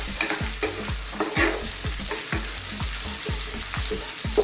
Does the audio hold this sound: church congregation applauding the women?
no